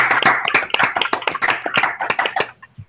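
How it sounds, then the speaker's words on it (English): A small group on an online video call claps steadily for a couple of seconds, the sharp, close hand claps thinning out and stopping at the end. "I suggest that we unmute ourselves and give an applause to Benedict."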